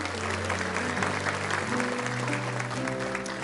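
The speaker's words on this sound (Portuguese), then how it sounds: "Você pode aplaudir ao Senhor por isso?" A church congregation claps along during a worship service, with steady dense applause throughout, layered over sustained music tones and faint voices in the background.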